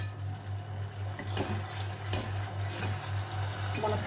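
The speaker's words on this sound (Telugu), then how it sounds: "ఇప్పుడు మనం ఇందులో ఈ మునక్కాయలు వేసేసుకుందాం." Drumstick pieces stirred into a simmering curry in a pan, a soft continuous sizzle with a few distinct scraping clacks of the spoon against the pot, steady and close, with a low hum beneath.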